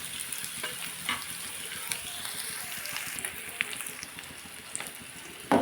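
Onions fry in a pan with a steady, close crackling sizzle, dotted with occasional sharp pops and a clatter at the end.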